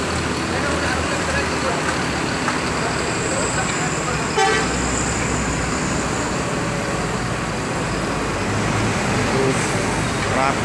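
A PT RAPI intercity bus sounds short horn toots as it departs Palembang for Medan, heard over busy roadway traffic noise and nearby voices.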